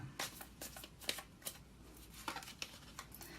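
Tarot cards shuffled by hand for a reading, with a quick series of crisp riffling bursts close to the listener and no talk.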